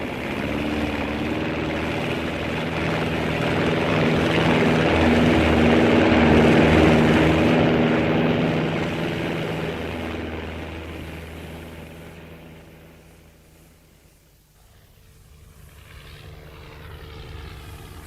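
A propeller aircraft engine drones steadily for a radio theatre takeoff effect, swelling louder to a peak mid-clip, then fading away and dipping before the noise returns faintly.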